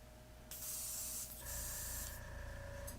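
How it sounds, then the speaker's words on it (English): Close spray-paint hiss over model robot kit parts, an RE/100 Nightingale, with two or three sustained bursts under a faint steady background hum, no talking. "Okay, we got a good spray."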